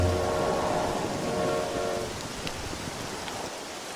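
A train in the Red Dead Redemption video game rumbles with a steady low roar and a held whistle-like tone that fades after two seconds, leaving broad continuous noise.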